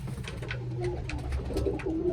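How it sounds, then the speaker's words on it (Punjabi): Young pigeons on a rooftop perch cooing softly in a series of low, throaty calls over a quiet background hum. "ਸਾਰੇ ਕਬੂਤਰ ਵੀ ਕਬੂਤਰ ਆ"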